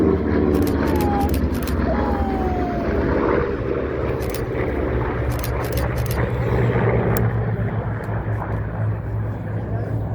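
A Corsair propeller plane drones past at an airshow in a steady rumble that swells and fades, with outdoor wind noise and sharp clicks scattered throughout.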